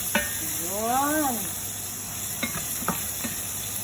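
Chopped onion sizzles in a hot pan with oil, a steady close frying hiss with a few stirring scrapes and a brief voice-like sound over it.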